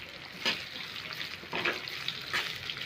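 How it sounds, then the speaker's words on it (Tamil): Two large sliced onions sauté in a pan for Tamil-style poori potato masala, a steady close sizzle that swells in brief bursts every second or so as the pan is stirred. "இப்போ 2 பெரிய வெங்காயம் ஸ்லைஸ் பண்ணி நறுக்கி வச்சுருக்கோம், அதை போட்டு நல்லா வதக்குங்க"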